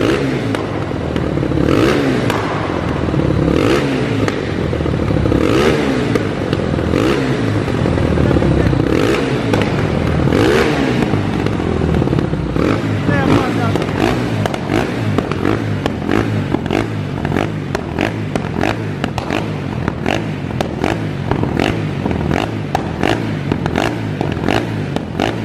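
Honda Twister motorcycle fitted with an R1 piston revving hard, a loud raw engine with crackling, popping exhaust bursts and rapid throttle blips throughout, clattering mechanical noise close to the bike, no talking.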